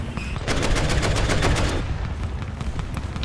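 Rapid bursts of anti-aircraft cannon fire from a German Flakpanzer IV Kugelblitz in War Thunder, a steady rhythmic pounding that runs loud throughout, with no one speaking.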